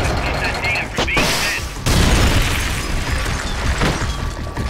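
Missiles explode in the video game Metal Gear Solid Peace Walker in a continuous barrage of loud booms and bursts, with gunfire-like pops layered into a dense, sustained roar.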